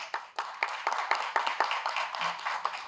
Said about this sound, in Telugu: రైట్ అయితే గట్టిగా చప్పట్లు కొట్టండి